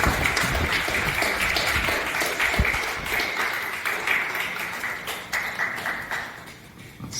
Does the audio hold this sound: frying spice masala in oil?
no